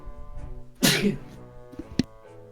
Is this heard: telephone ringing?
no